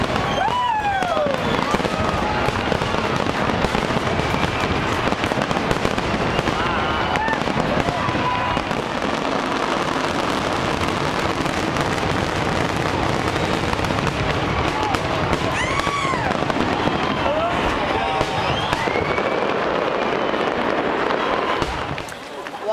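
Fireworks at the Celebration of Light, a beach fireworks show, crackle and boom continuously from a distance with whistling rockets rising, heard among a noisy outdoor crowd with people talking throughout.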